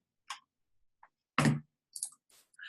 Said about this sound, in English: I will just click cancel